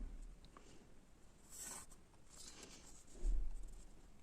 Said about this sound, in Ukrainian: Ці лінії паралельні в нас теж малюю.